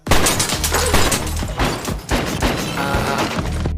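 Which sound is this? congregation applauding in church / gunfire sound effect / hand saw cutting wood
gunfire sound effect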